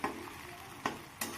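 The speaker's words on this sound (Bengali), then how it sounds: "এই পেঁয়াজটাকে আমি হালকা করে ভেজে নেব" Chopped onion frying in spiced oil, a steady close sizzle broken by three sharp scrapes of a spatula stirring the pan.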